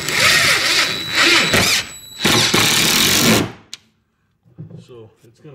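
A power drill drives screws into a garage shelf in two loud, whining bursts separated by a brief pause. A clunk follows, then quiet, low talk.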